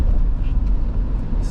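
A car travels Route 207 through the suburbs of Monroe, New York, in the first snowstorm of the year. A brief, steady low rumble of engine and tires on the road carries on without a break.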